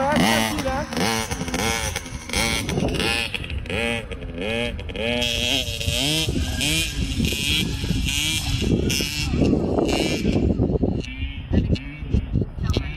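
A child's mini motorcycle engine revs high and hard, rising and falling in repeated wavering surges for the whole stretch, loud and close, with people talking over it.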